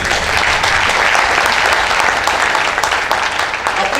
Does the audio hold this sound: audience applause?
yes